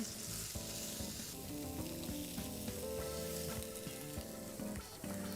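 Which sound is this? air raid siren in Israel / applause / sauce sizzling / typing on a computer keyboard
sauce sizzling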